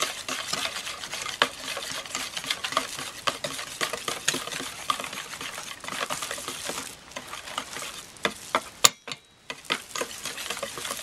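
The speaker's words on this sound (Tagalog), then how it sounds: "I-mix natin mabuti." Cornstarch is stirred briskly into egg custard pie filling in a bowl, a continuous rapid scraping and swishing of a utensil, close and fairly loud with short pauses near the end.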